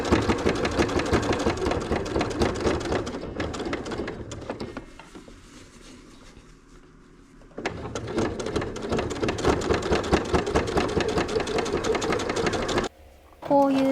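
A sewing machine runs in steady bursts while stitching a fabric corner for a small cloth craft, loud and close, pausing briefly in the middle before resuming, with a short stop near the end.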